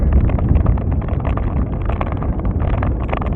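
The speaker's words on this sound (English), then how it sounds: "this wind is just fighting against us." Steady, heavy wind buffeting the microphone as cyclists ride into a strong headwind on a cross-Canada tour, a continuous loud low roar with gusty fluctuations throughout.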